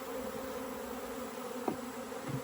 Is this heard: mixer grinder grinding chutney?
no